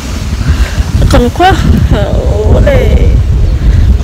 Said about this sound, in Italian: lo so che c'è il vento ragazzi